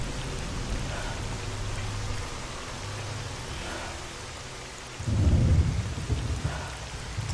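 Steady rain hisses down in the video game MISERY 2.0 while thunder rolls, with a deep, loud crack of thunder breaking in about two-thirds through.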